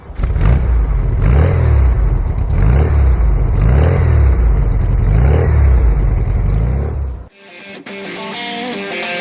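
A 2018 Pilgrim Speedster 356 replica with a 1650 twin-carburettor engine drives along, its loud, rhythmic engine note rising and falling for about seven seconds before cutting abruptly to other sound.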